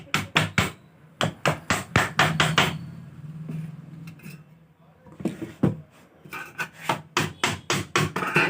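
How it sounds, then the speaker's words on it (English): Sharp wooden knocks from a wooden hammer fitting parts on a dual-sided packing machine come in quick bursts of repeated strikes, pausing briefly in the middle before resuming with steady hammering. "just take the wooden hammer here."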